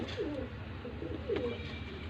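Soft, low coos from Teddy pigeons repeat a few times against a steady background hum.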